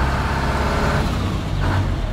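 Bus engine from a video game, a steady low rumbling drone that holds loud and continuous throughout, with a brief rise in pitch near the end as the vehicle pushes forward.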